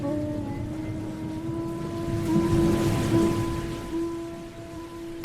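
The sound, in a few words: rain falling outside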